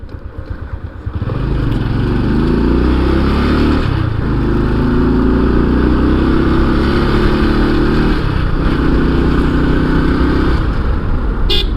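A motorcycle rides through near-empty Dhaka streets on Eid day. The engine starts up and holds a loud, continuous drone close by, with gear shifts and throttle changes and no voices.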